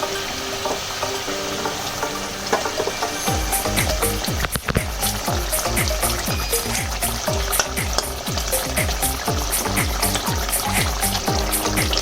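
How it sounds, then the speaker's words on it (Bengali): Fish simmering in gravy for Bengali tel koi, a steady bubbling sizzle that turns into a fast, regular pulsing bubble partway through, close and continuous with no talk. "ঝোল ভালো করে ফুটে গেছে, এবার আমি মাছগুলো দিয়ে দেবো।"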